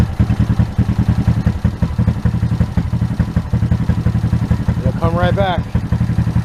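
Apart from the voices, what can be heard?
motorcycle engine running lean while tuned with Aracer Mini Plus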